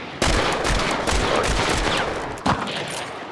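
Heavy gunfire from a large weapon in the video game Hunt Showdown, a sustained loud burst of shots with a sharp fresh report near the end, close and alone with no talk.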